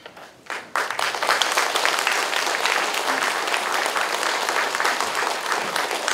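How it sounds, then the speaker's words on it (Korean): Loud, sustained applause from a large church congregation welcoming a speaker, beginning after a brief quiet moment and holding steady with dense clapping throughout. "여러분 나올 때 큰 박수로 환영해 주시길 바랍니다"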